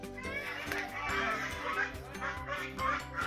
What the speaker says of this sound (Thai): มีห่านด้วย